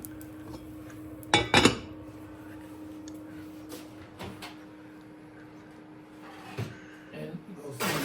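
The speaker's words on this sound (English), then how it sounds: "So now I'm gonna put the bread loaf inside." A sourdough loaf goes into a very hot pot, heard as a couple of sharp metallic clanks and clinks of cookware against a quiet kitchen background with a low hum.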